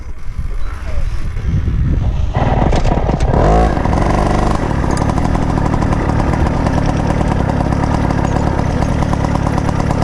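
A 1976 Carabela moped's small engine sputters unevenly at first, then catches and runs loud and close in a steady buzzing idle that holds to the end.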